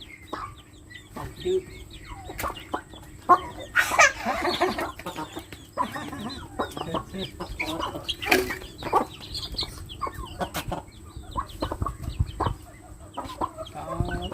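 Chickens cluck and squawk nearby in a busy, irregular series of calls, with children's voices and chatter mixed in throughout.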